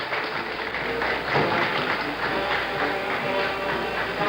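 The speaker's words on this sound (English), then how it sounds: "waving to the crowd of cheering sailors" A crowd of sailors cheers and applauds as the three Apollo 11 astronauts, Armstrong, Aldrin and Collins, emerge and head into the mobile quarantine facility aboard ship, a steady broad roar of distant voices and clapping over a low hum.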